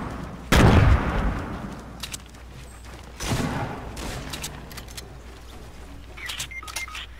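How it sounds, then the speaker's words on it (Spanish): Video game gunfire coming from behind the player, with two loud, sharp bursts of shots separated by a few seconds and quieter clicks and game sounds in between. "Me están disparando acá atrás, güey"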